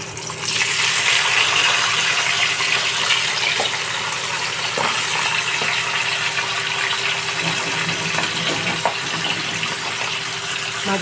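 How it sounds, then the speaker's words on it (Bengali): Pabda fish fry in hot mustard oil in a kadai, a dense continuous hiss and crackle of bubbling oil, loud and close, with a few faint clicks and no talk. "মাছগুলো কিন্তু ভীষণ বেশি কড়া করে ভাজবো না, মোটামুটি একটু এপিট ওপিট করে নামিয়ে নেব"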